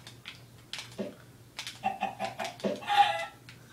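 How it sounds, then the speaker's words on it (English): Chicken clucking in a fishing video game's mini game, a run of short clucks and squawks that builds toward a louder crowing burst near the end, heard alone over a faint low game hum. "I'm just trying to get this chicken all the way up."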